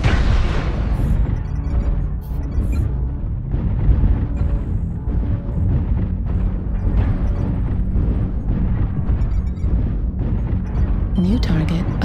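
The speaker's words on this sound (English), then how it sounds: "Airstrike activated." Booming airstrike explosions in a video game roll on continuously, deep and loud, with bursts and rumbling blasts layered together, while an automated announcer voice speaks over them.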